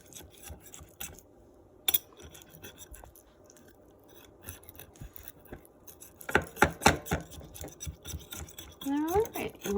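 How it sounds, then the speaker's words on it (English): A knife scraping around the edge of a pan holding a sticky pumpkin flan, soft rubbing strokes that build into louder scraping bursts near the end, with a voice talking over part of it. "you just take a knife and you go around the edge"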